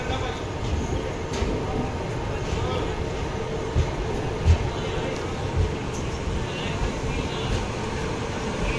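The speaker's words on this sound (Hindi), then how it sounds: "कन्याकुमारी एक्सप्रेस कन्याकुमारी से पुणे जा रही है, तो इससे पहले हमारे ट्रेन को निकाला है।" A Kanyakumari Express train passes on the Kanyakumari to Pune route with a steady, broad rumble of wheels and carriages. A few soft knocks rise briefly above the continuous noise, and a voice can be faintly heard underneath.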